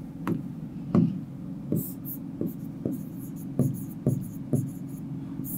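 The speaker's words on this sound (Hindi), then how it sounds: "यहां पर मैं लिख रहा हूं" Chalk or marker writing on a board during a physics lesson, with repeated short strokes and taps at a steady pace and a faint low voice underneath.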